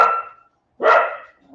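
Dogs barking indoors during a live vintage sale stream: two loud, fairly close barks a moment apart, the second longer and harsher, with nothing else underneath.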